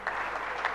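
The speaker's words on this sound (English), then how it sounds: "How about a round of applause?" Brief burst of audience applause at a presidential logo launch for a national employment and livelihood program, a steady clapping wash lasting under a second.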